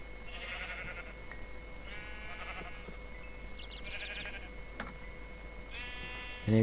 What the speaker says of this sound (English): Is that sheep?